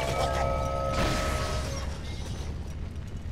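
An explosion goes off in the video game BioShock 2. A loud rumbling burst with a ringing tone opens the moment and fades into a low, rolling decay.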